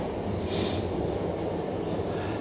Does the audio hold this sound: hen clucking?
no